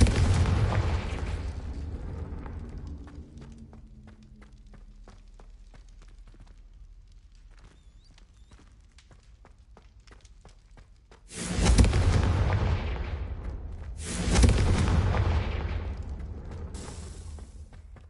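Fire and blast spell explosions from the Hogwarts Legacy video game go off: a loud booming burst at the start that rumbles away, then two more heavy, fiery explosions in quick succession near the end.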